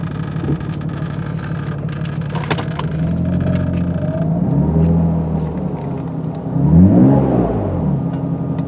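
A 1994 Mercedes-Benz E320 Cabriolet's six-cylinder engine runs close by with a steady, smooth rumble that rises in a couple of gentle revs.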